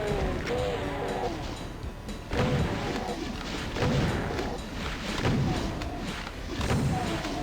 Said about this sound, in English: since we have some rockets, let's use some on the shotgunners around the corner